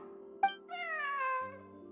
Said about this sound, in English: Wait, where did you get the cat?